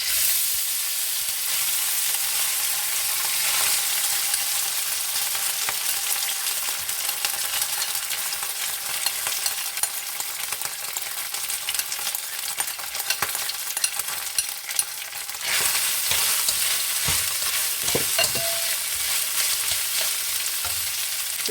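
Rice and vegetables stir-frying in hot oil in a single pan, a steady loud sizzle running throughout with scraping stirs and a brief louder burst partway, no voices.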